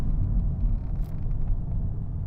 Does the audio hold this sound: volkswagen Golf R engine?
yes